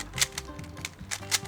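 Shengshou Wind speed cube turned quickly by hand, giving rapid rattling plastic clicks in uneven bursts, close and fairly loud.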